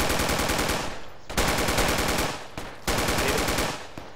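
Machine gun fire in the military shooter game Project Reality, three long sustained bursts of rapid automatic shots, loud and close, separated by brief pauses.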